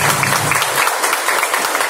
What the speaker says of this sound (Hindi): तो आप सभी के लिए मेरी तरफ से जोरदार